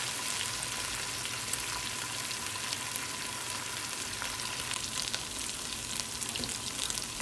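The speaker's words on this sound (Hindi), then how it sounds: "अब इसको फ्राई करेंगे।" Garlic and ginger paste sizzles steadily in a pan while an achar chicken dish is being cooked, a continuous close frying hiss with small crackles and no voices.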